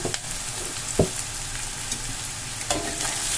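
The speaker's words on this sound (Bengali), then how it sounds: "আমি নাড়াচাড়া করে সমস্ত পেঁয়াজ, কাঁচা লঙ্কা আর হলুদ গুঁড়ো, নুন সমস্ত কিছু ভালো করে নাড়াচাড়া করে নিচ্ছি" Onions, green chilli, turmeric powder and salt frying over a medium flame, stirred in the pan: a steady soft sizzle broken by a few sharp scrapes and knocks of the spatula, no talking.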